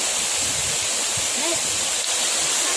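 A strong village waterfall pours down with water rushing hard, a loud, steady roar that fills the whole scene close by, while people's voices come through faintly underneath.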